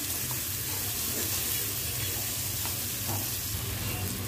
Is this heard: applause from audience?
no